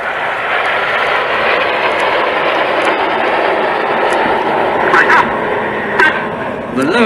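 Red Arrows jet aircraft flying at the Duxford Battle of Britain airshow, a steady loud roar of jet engines filling the air throughout, with a few brief bumps near the end.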